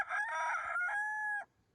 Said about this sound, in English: Let's compare two Cream Legbar cockerels.